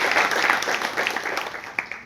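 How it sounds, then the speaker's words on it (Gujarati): An audience at B. D. Shah College of Education claps to welcome a guest speaker, a dense, steady patter of many hands lasting about two seconds with one sharper clap near the end. "જોરદાર તાળીઓથી આપણે સાહેબને વધાવી લઈશું"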